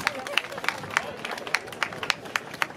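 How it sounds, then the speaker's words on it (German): A crowd at the GelsenTrabPark harness racetrack in Gelsenkirchen gives scattered, moderately loud clapping for race winners, with a voice audible through the applause. "Unser Erfolgsapplaus für die Sensationssieger im zweiten Rennen."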